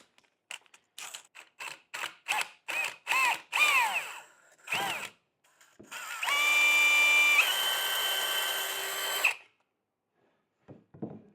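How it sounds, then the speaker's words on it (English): A regular power drill bores a hole through a thick ceramic planter in a garden, heard as a string of short revving bursts and then one sustained whining run that stops abruptly, close and alone. "I can just pop through it with a regular drill"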